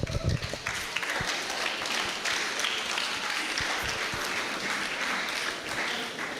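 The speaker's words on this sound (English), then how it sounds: "Can we do better in terms of our round of applause for Dr. Itunu on that wonderful lecture?" A lecture audience gives a sustained round of applause, with steady clapping from many hands at moderate volume, a little louder at the start and holding even to the end.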